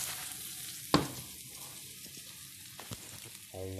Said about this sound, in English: now it's just gonna sizzle away nicely